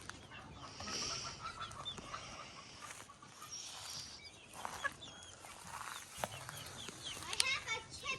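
A small chicken with crooked toes clucks in short, soft bursts at close range, its calls scattered over a steady background with people speaking nearby.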